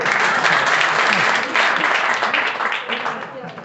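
Audience applause at a Bhojpuri literature talk, a full burst of clapping from a seated crowd that stays strong, then tapers slightly, with voices audible beneath it.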